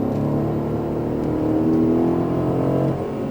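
An Aston Martin Vantage F1 edition on a racing circuit accelerates hard out of a corner, its engine note rising in a loud, steady roar close by.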